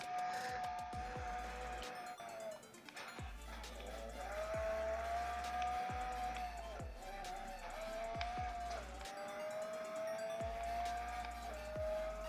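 Engine drone and repeated tire squeals from a mobile racing video game, a car revving and shifting steadily with game music underneath and faint talk at times.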